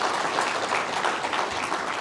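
Steady applause from an audience at the launch of Kenya's Blue Economy Strategy, a dense, even clapping that fills the whole stretch with no pause.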